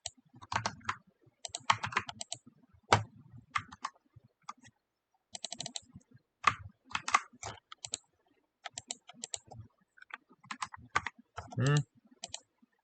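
Bursts of typing on a computer keyboard, rapid clusters of key clicks separated by short pauses, fairly close and moderately quiet.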